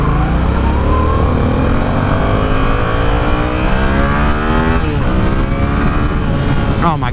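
A 2017 Yamaha FZ-07 motorcycle accelerating hard on a test ride: a loud, continuous engine note climbing steadily through the gears under heavy wind rush, with a rider's voice partly audible.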